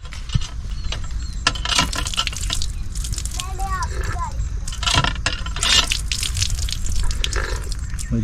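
Water gushes steadily from a farm tubewell in a village field near Sialkot, a continuous splashing flow under voices talking nearby.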